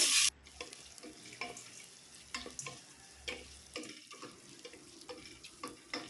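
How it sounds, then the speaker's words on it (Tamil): Onion sautéing in oil with cashews for pudina pulao, a low steady sizzle under frequent sharp scrapes and taps of a spoon against the pan, after a brief loud hiss at the start. "எண்ணெயிலேயே வெங்காயம் நல்லா வதங்கி வரட்டும்"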